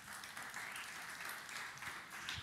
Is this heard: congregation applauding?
yes